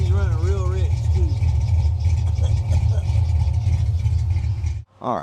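Close, loud idle of a Foxbody car engine running rich and misfiring, a rough uneven rumble that dips briefly near the end while someone talks over it.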